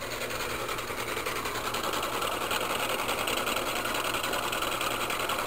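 A DC motor runs steadily on bench power, giving a continuous, even mechanical whir with a faint high whine, loud and close with no talk.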